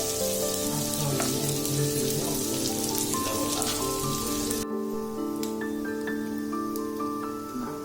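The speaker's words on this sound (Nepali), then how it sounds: "हेर्नुहोस्, चटक्क प्याज पनि फ्राई भयो। हाम्रो बफ पनि एकदम रेडी भइसक्यो, फ्राई भएर पुरै।" Onions and buff meat fry in a pan for a spicy Nepali-style gravy, a steady close crackling sizzle that continues without pause, with sustained musical tones in the background and no talking.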